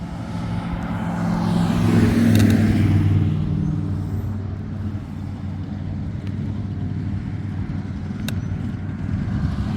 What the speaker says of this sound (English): That car didn't sound very good.